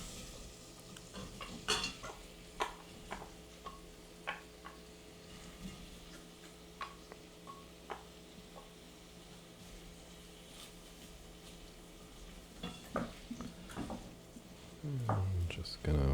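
Onions cook in butter in a pan, a quiet sizzle beneath scattered clicks and taps of a utensil stirring, close and intimate, with a voice murmuring at times.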